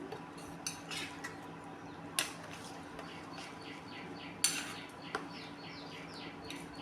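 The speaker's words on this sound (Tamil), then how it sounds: "இப்போ நல்லா கிளறி விட்டுக்கலாம்" A spoon scrapes and clinks against a metal pot of Chettinad-style eggplant and peanut curry in intermittent strokes, with a few sharper knocks, while birds chirp faintly in the background.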